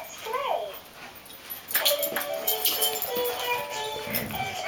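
Two dogs wrestling and playing give high whimpers and yips over scuffling and paw noise, fairly close and lively, with a voice rising briefly near the start.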